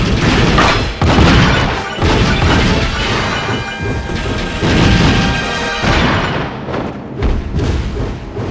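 Shots and melee strikes smashing through a breakable gate in Kid Icarus: Uprising, loud and dense, with repeated heavy thuds and crashing impacts over a continuous rumbling game backdrop.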